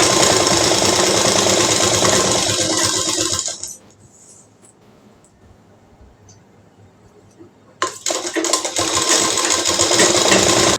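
A sewing machine stitches a kurti seam with a loud, steady close-up whir, stops for several seconds of near silence with small clicks, then starts up again just as loud.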